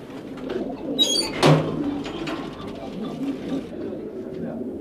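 Mixed fancy and racing pigeons cooing while perched in a row inside a loft, low and steady under a murmuring background, with a brief sharp chirp early on.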